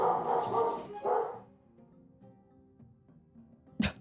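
A dog named Stixel barks loudly several times in quick succession, then falls quiet before one more sharp, close bark near the end.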